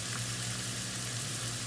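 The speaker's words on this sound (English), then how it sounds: "you got a little bit of caramelization or frying happening right there" Chopped onions frying in olive oil in a pan, a steady close sizzle and crackle holding at an even level throughout with no voices.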